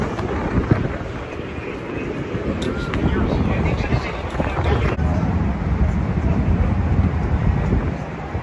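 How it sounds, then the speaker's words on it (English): Wind gusts across an outdoor sky deck at a Chicago baseball stadium, a loud, steady rumbling buffet against the microphone with no speech heard. "there's a nice wind here"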